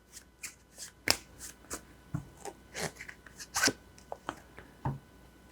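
A deck of tarot cards is shuffled by hand in several quick, crisp riffling bursts with short pauses between them, close and clear with no talking.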